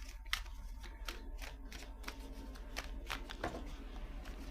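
Rapid riffling bursts of playing cards being shuffled, repeated several times in quick succession, close and crisp, with no talking.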